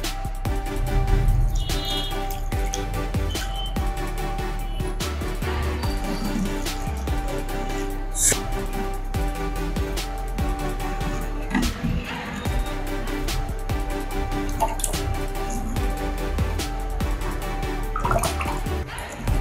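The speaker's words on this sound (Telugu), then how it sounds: "ఇప్పుడు ఈ షుగర్ కరగడానికి ఒక 1 కప్ వాటర్ వేస్తున్నా." Water poured from a cup onto sugar heating in a pan to make syrup for badusha, a steady splashing and gurgling pour that runs loud and continuous for the whole stretch.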